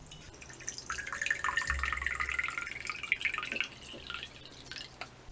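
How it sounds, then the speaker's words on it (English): Water poured through a mesh net into a glass jar, a continuous close trickle and splash with a rising pitch as the jar fills, then tapering into a few drips. "I am able to pour water through the net into the glass jar"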